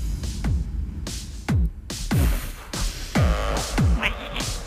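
Hardstyle electronic music remix with punchy, pitch-dropping kick drums hitting in a driving rhythm, layered with bright synth bursts and brief gaps.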